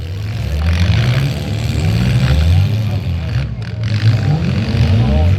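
Audi car engine revving at a demolition derby, a rough, continuous low drone with other cars in the mix, heard under lively talk and crowd noise.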